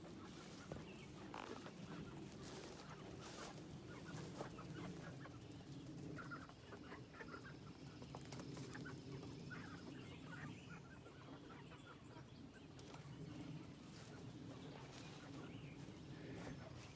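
Salmon Faverolles hens cluck and murmur continuously in a pen with a rooster among them, a busy, overlapping flock chatter heard at moderate distance with no talking.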